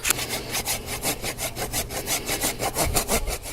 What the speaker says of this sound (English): I'm going to use my rasp to smooth that out